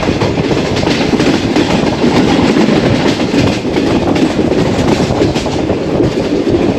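The Tezgam express train runs from Rawalpindi toward Lahore in Pakistan, descending from hills near Bakrala station, with a steady loud rumble of carriages and continuous clickety-clack wheels on rail throughout.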